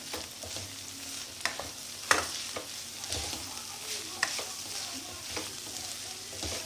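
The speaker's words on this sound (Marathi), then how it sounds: "फिरवून घ्यायचं असं." Moth bean curry (matki usal) being stirred in a pan, with a spoon scraping and clinking in short irregular strokes over a soft steady sizzle, close and fairly loud, no talking.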